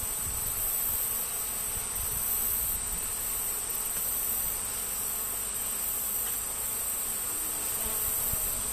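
Honeybees at a top-bar hive during a transfer fill the air with a dense, steady buzz that holds close and unbroken throughout, with no talking.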